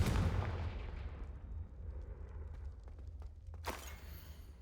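A fiery blast spell cast in the video game Hogwarts Legacy: a loud booming burst at the start that decays into a rumbling tail, followed by a second sharp crackling blast near the end, with no talking.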